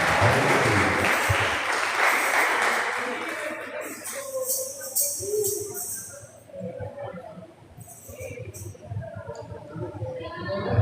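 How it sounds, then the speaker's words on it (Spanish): A church congregation claps loudly for a few seconds at an evangelist's service, then the applause fades into scattered claps and murmuring voices with background chatter. "Den un aplauso a Jesús."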